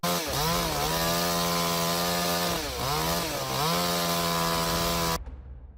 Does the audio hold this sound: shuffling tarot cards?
no